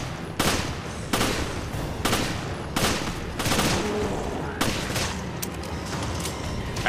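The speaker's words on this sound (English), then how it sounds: "I'm gonna unload on you with just the shit weapons that I have" Gunfire in Resident Evil Revelations: loud, separate heavy shots spaced roughly a second apart, each with a sharp crack and a short decay, repeating steadily with game ambience beneath.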